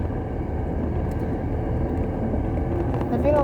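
A learner driver's car engine hums steadily as the gas is pressed, a continuous low drone that runs the whole time beneath a person talking, with the voice growing clearer near the end.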